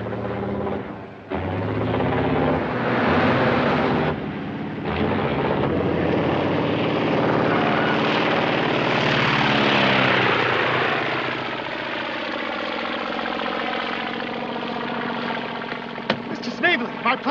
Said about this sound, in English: My plane took off without me.